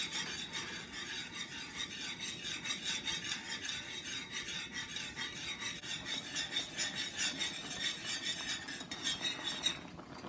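Quick cooking grits being whisked in a pot, a soft, steady rapid scraping and swishing of the whisk against the pot, faint and continuous with a slight rise near the end and no talk.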